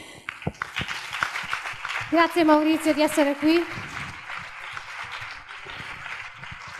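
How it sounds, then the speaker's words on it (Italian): An audience at a talk on vegan diet and bodybuilding applauds as a speaker is called on stage, producing dense, steady clapping throughout while someone talks and another voice rises briefly over it. "chiamerei sul palco con un grande applauso"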